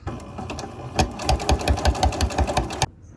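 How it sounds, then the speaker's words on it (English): A sewing machine stitches a seam on a shirt made from a thrift-store lace tablecloth. It runs in a fast, rhythmic mechanical chatter that speeds up, then stops abruptly near the end. "So stitch all the way down this and then do a flat filled seam on the outside."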